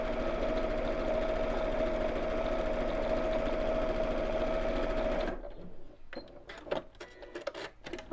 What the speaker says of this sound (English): I'm just going to top stitch across the top of here as well